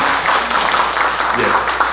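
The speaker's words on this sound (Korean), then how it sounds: "박수로 감사드리겠습니다" Attendees at an academic conference clap for a professor being introduced, a short, loud, dense burst of applause from a seated crowd.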